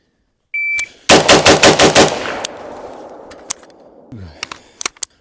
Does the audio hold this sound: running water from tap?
no